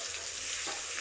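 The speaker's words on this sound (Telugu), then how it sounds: "ఒక 2 to 5 మినిట్స్ పాటు వేయించుకుందాము." Onion chutney paste fries in a pan with a soft, steady sizzle that holds evenly through a brief moment, with no voices.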